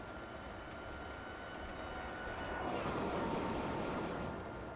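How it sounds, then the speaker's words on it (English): A train passes by on a German high-speed line between Munich and Augsburg, heard from a moving train as a faint, steady rushing roar that swells and then recedes. "Train going by"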